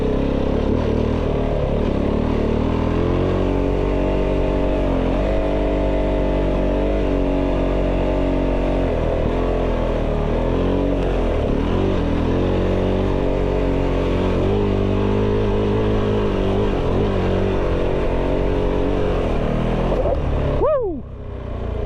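Kove 450 Rally motorcycle ridden off-road over sand and a small jump: a steady, loud engine drone with shifting revs throughout, close to the rider, ending in a brief rising rev and dip near the end.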